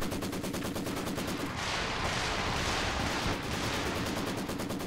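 Sustained Maxim machine gun fire in Company of Heroes 2, a dense, loud, continuous stream of rapid shots with a broad roar of overlapping gunfire and battle noise, no talk.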